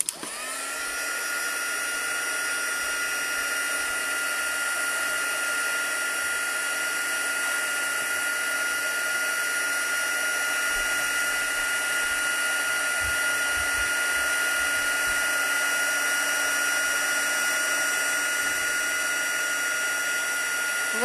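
Heat tool melting embossing powder on a stamped card, a loud, steady, high whirring blower hum that starts abruptly and holds constant and close for the whole stretch.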